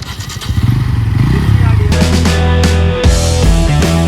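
Two motorcycles, a Yamaha MT-15 and a Pulsar N160, rev hard and loud up close in a tug of war, their engines droning and rising together with a sharp thud partway through.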